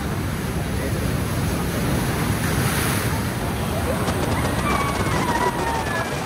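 Sea waves wash over the seaside road at Digha, a constant close roar of surging water with heavy wind buffeting the microphone throughout.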